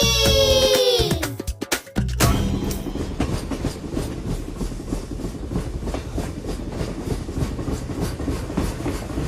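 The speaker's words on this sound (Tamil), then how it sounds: "கூக்கு கூக்கு ரயில் வண்டி, கூவி போகிற ரயில் வண்டி." A train runs on rails with a steady, loud clickety-clack of wheels over the joints. A short, falling, whistle-like tone and a brief break come first.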